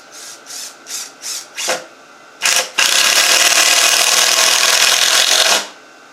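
A Ryobi impact driver sinking 2.5-inch exterior coated screws, a string of short rapid hammering bursts followed by one long sustained rattling run, loud and close.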